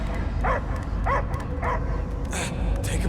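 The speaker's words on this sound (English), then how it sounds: "I hear only barking" A dog barks in three quick, evenly spaced yaps in the video game Guardians of the Galaxy, followed by higher whining yips over a low rumbling background.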